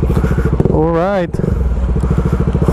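A Bajaj Dominar 400 motorcycle fitted with a custom 61mm exhaust idles with a loud, rapid, throaty pulsing that runs steadily through the whole stretch. A brief voice-like tone rises over it midway.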